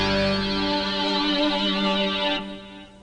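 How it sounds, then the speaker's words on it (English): A sustained Kurzweil K2600 synthesizer chord rings out loud and bright, thickened by chorus and swirling echo from the chorus delay effect, then fades away over the final half second. "switch 2 increases the amount of echo in the chorus delay effect"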